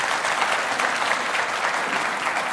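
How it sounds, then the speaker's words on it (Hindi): Studio audience clapping at a televised debate show, a steady, even burst of many hands lasting a few seconds with no voices over it. "तालियां बजाइए भाई, आपकी टीम से आए थे"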